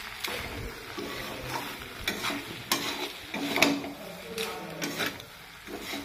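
Tomatoes and rice frying together in a pan, with irregular scraping stir strokes over a steady low sizzle, close and fairly quiet, with no voices.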